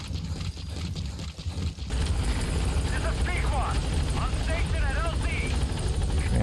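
A helicopter in the video game Metal Gear Solid V gives a loud, steady rotor roar that swells after a rougher opening, with faint voices or chirps over it.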